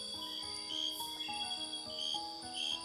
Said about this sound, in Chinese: 还有青蛙的叫声。